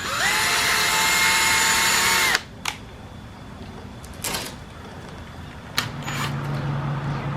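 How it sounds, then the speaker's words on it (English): A power drill whines loudly and steadily for about two seconds drilling a small hole in a Honda Accord's plastic lower grille, then cuts out, leaving a few light clicks and handling noises. "What I'm going to do here is drill a small hole in here."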